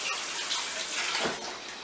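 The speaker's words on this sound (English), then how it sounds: "Let me wash my hands real quick." Tap water runs steadily into a kitchen sink as hands are washed under it, a continuous close splashing hiss with no talk.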